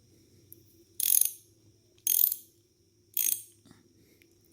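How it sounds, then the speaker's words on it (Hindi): Ratchet tool loosening throttle body nuts on a Daihatsu Move: three evenly spaced bursts of rapid ratchet clicking, close and crisp, separated by near silence, no voice. "इस तरह का आप रख लें तो आपका जल्दी खुल जाएगी थ्रॉटल बॉडी, बिकॉज इससे नट बहुत जल्दी खुलते हैं।"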